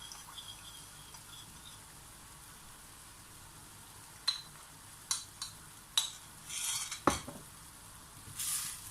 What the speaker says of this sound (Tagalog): ilalagay na natin ngayon ang sauce na ating ginawa kanina